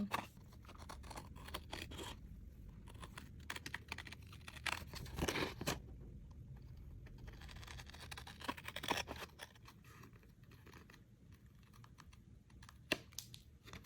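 Scissors snip and scrape through a paper envelope template for a homemade Hogwarts acceptance letter, a run of close, crisp cuts with bursts of rustling paper, no talk.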